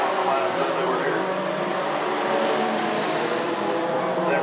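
Mini-truck race cars at Antioch Speedway roar around the oval in a continuous loud engine drone, with a race announcer talking over the noise.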